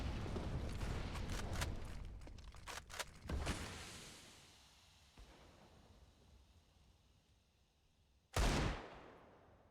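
Desert Eagle pistol shots in Counter-Strike on the map Train, a quick cluster of sharp cracks early on, then quieter ambience, and one loud close shot near the end.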